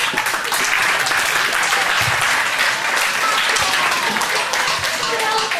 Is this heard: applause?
yes